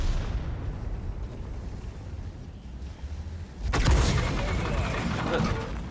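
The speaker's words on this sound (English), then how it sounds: "It's a bloody mortar, it can fire over basically anything, so I get splashed for 600 damage there" A Conk GC mortar shell lands in World of Tanks with a sudden loud booming impact that rolls into a sustained rumble, following several seconds of steady engine drone.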